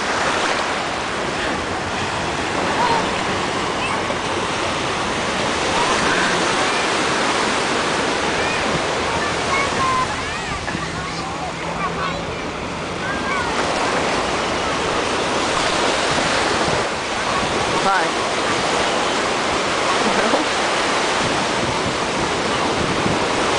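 Ocean waves wash steadily onto a beach, a loud, continuous rush of surf with wind noise on the microphone and no clear break in the roar.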